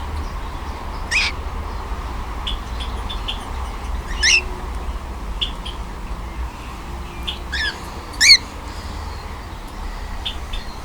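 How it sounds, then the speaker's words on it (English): Pet cockatiels and a galah in an aviary let out a handful of sharp, scattered squawks at irregular intervals, the loudest near the end, over a low, steady background hum. "Cockatiels aren't so bad. Leela's annoying, he squawks a lot, but most of the time the cockatiels make pretty cute noises."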